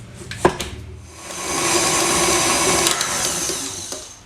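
A stand mixer with a paddle attachment creams butter and sugar in a mixing bowl, starting with a sharp knock and then a steady, fairly loud motor whir with scraping, running alone for several seconds.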